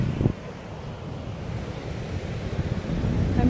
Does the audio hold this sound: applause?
no